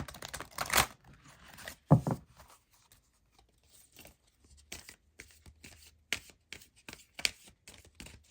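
Tarot cards riffle and slap as they are shuffled and drawn for a reading, with a burst of brisk shuffling early on, then scattered light flicks and taps of cards being laid down close by.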